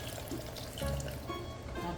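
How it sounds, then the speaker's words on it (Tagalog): Water pours steadily into a pot of pancit noodles for a couple of seconds, a close, continuous splashing trickle with a slightly fuller gush midway. "Dagdagan pa natin yung tubig"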